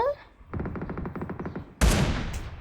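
Rapid bursts of automatic gunfire from the PUBG Mobile battle royale game, a fast rhythmic string of about a dozen shots followed by a louder, harsher blast, fairly close and loud.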